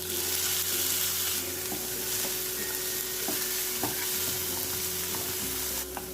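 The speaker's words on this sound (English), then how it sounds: "Now I am adding half tomato finely chopped." Finely chopped tomato frying in a pan with garlic paste for a street-style Bombay omelette, a steady loud sizzle with occasional stirring clicks, no voices.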